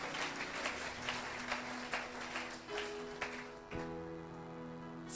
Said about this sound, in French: Tunamchapia Yesu mikono.